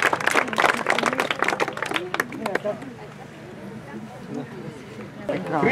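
Crowd applause rings out at the 2016 Haapsalu triathlon award ceremony, a dense burst of clapping that fades after a couple of seconds while an announcer keeps talking over a public address.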